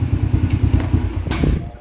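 Motorcycle engine fitted with a tuned racing head, revving in quick close-up bursts with a rapid throbbing pulse, then fading out at the end.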